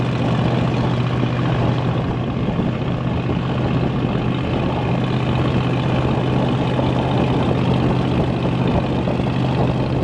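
A repaired tracked trail vehicle's engine runs steadily and loudly, a constant low droning hum with a strong steady tone and mechanical rattle, no talk over it.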